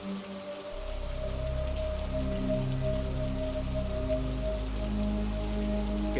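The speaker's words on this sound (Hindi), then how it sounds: "तेज बारिश भी हो रही थी" Heavy rain falls steadily in a cartoon scene, a dense, continuous hiss of drops over a low humming music bed, with no voices.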